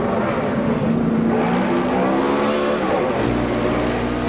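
A 1997 NASCAR stock car at Watkins Glen, heard from inside Mark Martin's car: a loud, continuous engine roar whose pitch climbs under acceleration, then drops abruptly with a gear change near the end.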